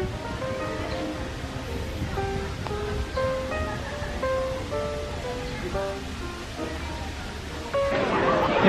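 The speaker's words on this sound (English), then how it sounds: "Tapos may fountain." Fountain splashing in a garden park in Gapyeong, Korea, a steady wash of falling water heard with background music and a louder rush near the end.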